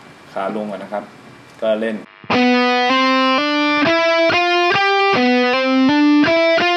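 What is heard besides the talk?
electric guitar speed picking with distortion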